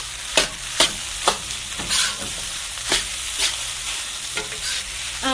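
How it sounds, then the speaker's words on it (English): A spatula chops and stir-fries egg fried rice in a pan, a continuous sizzle punctuated by repeated sharp knocking strikes against the pan at an uneven rhythm, close and without talk. "I just kind of keep doing these like little cutting motions so that it just breaks up the rice a little, or the egg a little bit more"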